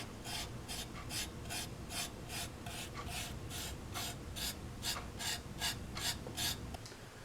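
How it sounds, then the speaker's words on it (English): A brush dry-brushes paint onto a Tamiya Crusader Mk III model tank in quick, regular scratchy strokes, about two per second, faint and close, with no talk. "I'm going to do some dry brushing."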